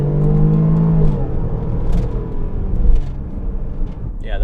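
A 2014 Range Rover Sport HSE with about 90,000 miles pulls hard while driving, its engine note rising through a steady low rumble and whir from inside the cabin, loud and continuous throughout.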